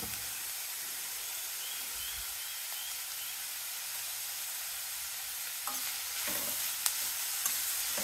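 Vegetables sautéing in a pan for upma give off a soft, even sizzle and hiss, steady and fairly quiet, with a few louder clicks of stirring near the end.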